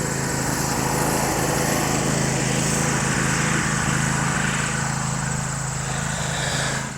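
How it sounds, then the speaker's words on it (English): A lawn mower engine drones steadily and loudly nearby, a constant buzzing hum with no talking, easing off slightly at the very end. "Some guy in a lawnmower."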